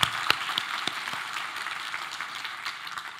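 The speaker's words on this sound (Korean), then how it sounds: "우리 하나님께 감사의 박수를 드리겠습니다" A congregation claps briefly during a church worship service, a few sharp individual claps up front then a soft, thinning patter of hands further back.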